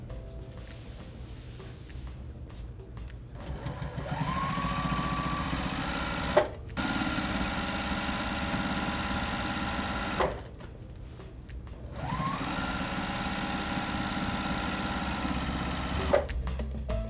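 Sewing machine stitching binding onto a quilt, running in steady sustained bursts with brief pauses between stretches, close and fairly loud with a whirring motor hum.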